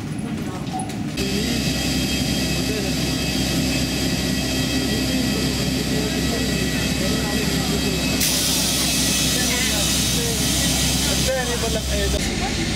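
Jet airliner engines roar steadily at Abu Dhabi airport as passengers are bused out to the plane, a loud continuous broadband drone that holds for the whole stretch with faint mechanical clicks on top.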